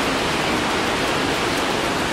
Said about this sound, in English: Can you guys hear the waterfall?